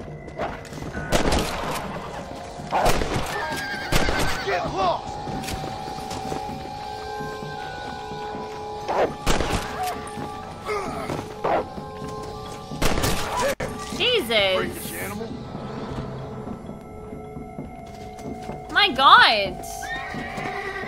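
A horse in Red Dead Redemption Undead Nightmare whinnies loudly several times and gallops, with hoof clip-clops and a few crashes and shots between the calls, and someone talks over it.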